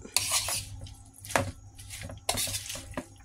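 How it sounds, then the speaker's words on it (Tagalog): Spoon stirring vegetable okoy batter with turmeric in a bowl, a few soft scraping and clinking strokes in bursts, close and quiet with short pauses between. "Ayan guys, saka natin haluin uli."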